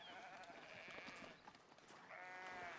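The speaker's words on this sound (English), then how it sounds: "The sheep are very loud." Sheep bleating in the medieval city-building game Foundation, several drawn-out wavering bleats that overlap at moderate volume over quiet ambient game sound, with no talking.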